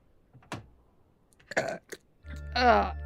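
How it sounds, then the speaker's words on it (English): A short, nasty burp gives a brief throaty eruption near the end, loud and close, after a few scattered small vocal sounds and mouth noises, with no speech over it. "Sorry, that was a nasty burp."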